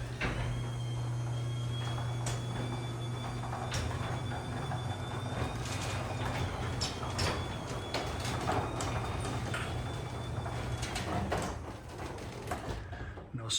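A Chamberlain garage door opener with a properly tensioned belt runs steadily for about thirteen seconds, giving a continuous mechanical hum with a faint whine and scattered light clicks and rattles, close by and with no voices.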